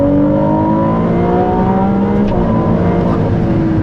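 A loud Maserati MC20 engine revs up with rising pitch, a dense growling roar close by, steady in level throughout without any talking.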